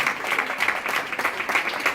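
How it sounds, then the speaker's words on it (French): A school audience in France claps for a middle school sports association as its members stand, brisk dense applause holding steady and fairly close for two seconds. "elles se lèvent, on les applaudit"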